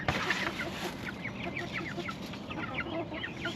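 Backyard chickens cluck steadily in a busy, dense chorus of short repeated calls, close by, with no talk over them.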